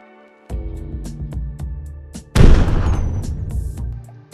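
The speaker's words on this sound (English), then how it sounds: "It fires 50 caliber BMG rounds at over 500 rounds per minute." A Warthog's mounted .50 caliber machine gun in Halo 4 firing BMG rounds, starting with evenly spaced sharp shots over a low hum and then a loud booming burst with a long decay.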